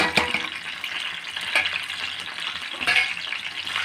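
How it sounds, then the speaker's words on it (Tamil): Ginger, black pepper and cumin frying in ghee for a pongal dish: a steady crackling sizzle at moderate volume, with a few sharper spatters and utensil scrapes rising and falling. "அதுக்கப்புறமா இஞ்சி, மிளகு, ஜீரகம் போடுகிறோம்."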